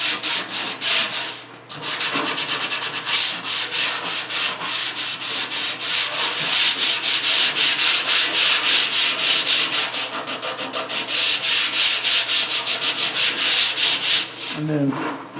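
Farmall H tractor parts get a vigorous scrubbing to strip rust, producing a loud, rhythmic back-and-forth rasp that repeats steadily for about fifteen seconds after a brief pause near the start.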